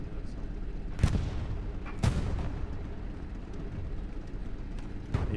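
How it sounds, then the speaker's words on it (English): Panther tank firing in the Hell Let Loose World War II video game, several heavy booming cannon shots spaced about a second apart over a constant low rumble of battle noise, with a voice talking in the background. "A panther shooting me."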